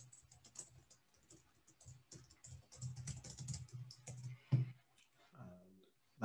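Someone types on a computer keyboard in bursts of quick clicking keystrokes with short pauses between them, close and fairly quiet, while a voice speaks over part of it.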